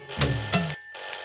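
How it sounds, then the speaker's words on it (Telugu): A telephone bell rings in two short bursts close by, followed by a faint, quieter ring, with no talking over it. "ఏంట్రా ఫోన్ రింగ్ అవుతూనే ఉంది?"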